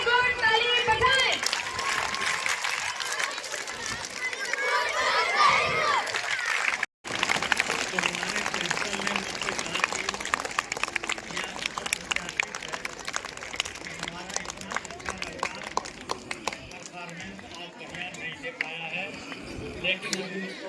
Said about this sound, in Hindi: गुड गुड, वेरी गुड, ताली बजाएं।